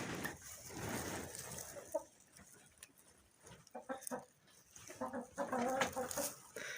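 Hens cluck in short, irregular bursts, close by, with some rustling and soft scratching between calls.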